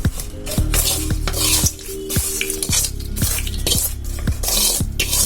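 Fried tempering being stirred into cooled tamarind rice with a utensil, repeated rhythmic scraping and clinking strokes against the vessel over a light sizzle, close and continuous.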